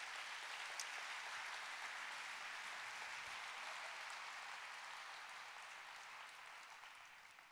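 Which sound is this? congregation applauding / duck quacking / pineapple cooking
congregation applauding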